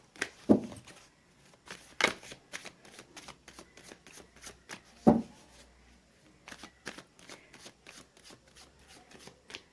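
Tarot cards are shuffled by hand in a quiet room, giving soft riffling and sharp slapping bursts at irregular intervals.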